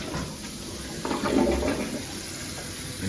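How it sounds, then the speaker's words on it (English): A toilet flushes in a cold shop bathroom, close and steady: a rushing swell of water rises midway, then tapers into a continuous hiss of refilling. "Get the toilet flush."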